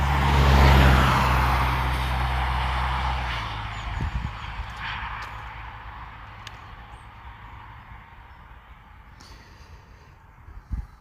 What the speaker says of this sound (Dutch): Dat is even een vrachtwagen van Campina.